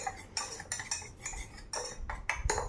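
A spoon scraping and clinking against a bowl while gram flour is stirred to break up lumps for a buttermilk gojju, in irregular bursts of scraping strokes, close and moderately loud with no talk.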